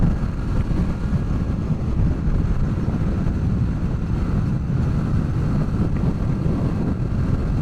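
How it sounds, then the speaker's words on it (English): Blustery wind buffeting the rider on a Honda VFR800 motorcycle on an open road, heard as a dense, steady low rumble of wind noise over the engine, unbroken throughout, no talking. "A bit blustery on this road."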